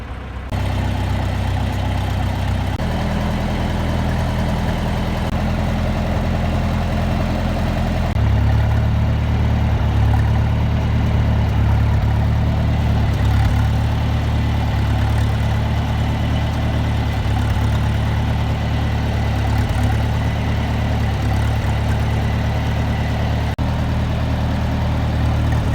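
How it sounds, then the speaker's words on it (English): A farm tractor idles on a winter cattle farm, a steady, loud low rumble with shifting engine tones and constant vibration, alone with no talk. "Pull the tractor in a little bit farther"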